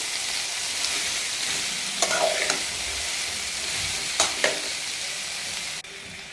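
Okra (bhindi) is frying in a pan with salt and turmeric while being stirred, giving a steady low sizzle broken by a few brisk scraping strokes of the spoon, then a sudden drop near the end.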